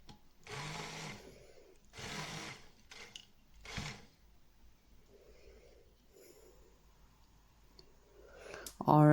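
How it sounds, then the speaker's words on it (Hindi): An electric blender grinds chopped tomatoes into puree in three short, loud pulses, followed by quieter pauses with a low voice speaking. "तो सबसे पहले जो है हम टमाटोज़ को जो है वो इसको जो है हम ग्राइंड करेंगे।"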